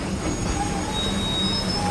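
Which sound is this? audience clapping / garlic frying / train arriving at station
train arriving at station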